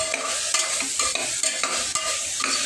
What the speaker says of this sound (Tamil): நல்லா மைய வணக்குவோங்க.